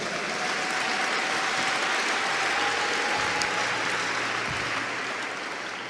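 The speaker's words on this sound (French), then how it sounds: "Est-ce que quelqu'un peut m'aider à acclamer le Seigneur?" A church congregation claps and cheers in a steady, moderately distant roar of applause that holds for about six seconds before tapering slightly.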